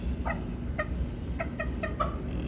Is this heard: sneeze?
no